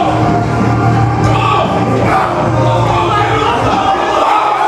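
A crowd at a powerlifting meet roars and yells in a continuous loud wall of voices, dense and close, with individual shouts rising above the mass.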